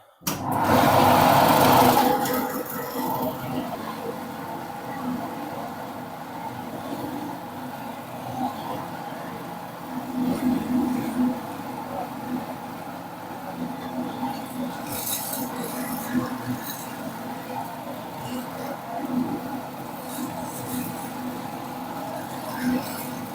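A small bowl cutter whirs steadily as it mixes sausage meat for craft sausages with pistachios. The motor starts loud, then settles into a continuous rough hum with grinding fluctuations over a long stretch.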